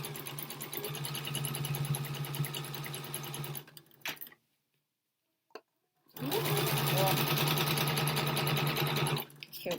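Sewing machine stitching organza in two loud, steady runs separated by a pause of near silence with a faint click, the motor whirring continuously at close range.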